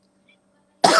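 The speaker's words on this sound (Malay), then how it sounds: "Aduh, batuk pula dah." A single sharp cough bursts out near the end after a stretch of near silence, loud and close.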